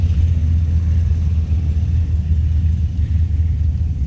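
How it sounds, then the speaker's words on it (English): Thundering V8 engines of hot rods at the Hot Rod Power Tour, a continuous low rumble from many idling and running engines spread around, steady and fairly loud. "It's a roar of thundering V8s as far as the ear can hear."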